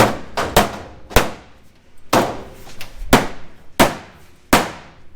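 A heavy hammer slams repeatedly into the metal body of a demolition derby car, sharp ringing clangs spaced irregularly about a second apart, loud and close, with short metallic decays between blows.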